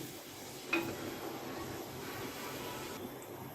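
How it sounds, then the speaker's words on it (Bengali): Potatoes cut for French fries frying in oil over medium heat, a steady soft hiss and crackle with one brief louder pop near the start. "চুলার আঁচটা মাঝারি আছে রেখে আলুগুলো ফ্রাই করব"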